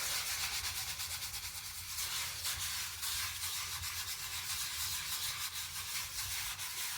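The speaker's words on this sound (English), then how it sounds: "So we dip our scrub daddy into the Magic Kleen. We've got some powder on there now, and we can just scrub in circular motions." A Scrub Daddy sponge loaded with Magic Kleen powder scrubs a sink in circular motions, a continuous close, gritty rubbing with repeated swishing strokes and no talk.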